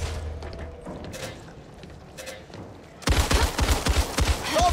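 Assault rifle fire in the video game Back 4 Blood opens up partway through as rapid, loud, sustained bursts. It follows a stretch of quieter game sounds with a few isolated thumps.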